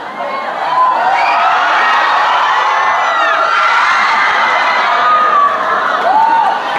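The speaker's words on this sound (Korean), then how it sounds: "저희가 노래 부를 때마다 환호성이 더 큰 것 같아요" Crowd at a rock concert cheering and screaming, a loud, continuous roar of high shrieks and whoops that barely dips throughout.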